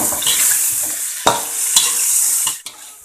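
Long beans tossed into a hot frying pan, loud steady sizzling with a few sharp stirring scrapes and clanks of the utensil against the pan, no voices.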